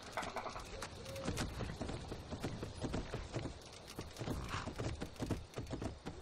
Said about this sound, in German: So, hier ist auch noch ein Pferd.